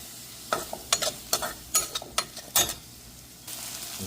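Onions and fresh curry leaves cooking in a pan, a soft low sizzle broken by a run of sharp spoon scrapes and clinks against the pan, close and without speech.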